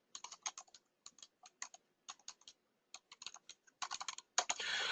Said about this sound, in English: I'm typing it in the room.